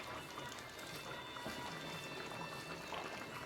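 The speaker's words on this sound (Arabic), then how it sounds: "غندير لي دابا الماء طايب" Boiled water being poured over chicken in a pot, a steady, dense rushing pour that fills the whole clip without pause, close and fairly loud, with no talking.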